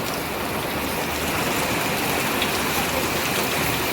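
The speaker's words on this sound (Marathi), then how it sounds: "पाऊस चालू आहे बाहेर पावसाच्या आवाजामध्ये जाग आले मला" Rain falls outside in a constant heavy patter, a uniform wash of sound with a few brighter drips and no talking.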